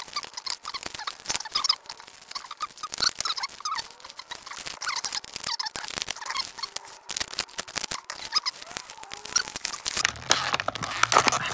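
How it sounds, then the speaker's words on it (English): Scissors cut through childproof plastic yoyo packaging up close, a quick irregular series of snips, crinkles and rustles at moderate volume with no voices. "So I gotta use the scissors here. Just gotta cut that thing here."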